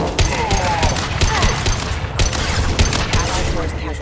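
Rapid gunfire crackles in a Mass Effect 2 firefight, repeated sharp shots in quick bursts, with combat voices talking over the shooting.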